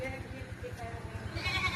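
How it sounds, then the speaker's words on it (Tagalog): A goat on a rural farm bleats in a drawn, wavering cry close by, running through the short stretch over low background noise, with a voice faint beneath it. "Sumagot yung kambing, oo daw."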